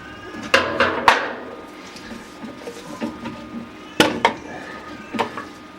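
A washing machine agitator top is worked loose and pulled off, giving a few sharp plastic knocks and clacks near the start and again later, with softer rattles and scrapes between, close and fairly loud.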